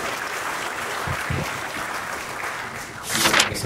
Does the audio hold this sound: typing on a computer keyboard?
no